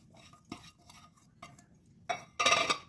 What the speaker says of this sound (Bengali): মিক্স করে নিচ্ছি ভালো করে